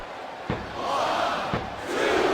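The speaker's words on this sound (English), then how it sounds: "This capacity crowd is on its feet." A capacity crowd roars in a wrestling video game arena, a loud sustained cheer with two heavy slam-like thuds punching through and the swell building toward the end.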